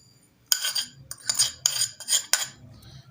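Metal spoon clinking and scraping in a bowl while dry chaat masala spices are mixed, four or five quick bursts of close, bright clatter with brief pauses between.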